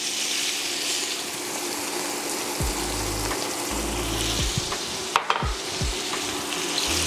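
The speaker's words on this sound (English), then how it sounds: "Now we just gonna saute these down and render these down until they become golden brown." Beef short ribs sautéing and rendering in a pot, a continuous close sizzle with low rumbling bubbles and a few sharp clanks of a utensil midway.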